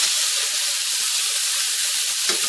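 Hamburger patties fry in a hot pan with a steady, loud broadband sizzle and hiss throughout, with a few soft low thumps near the end and no talking.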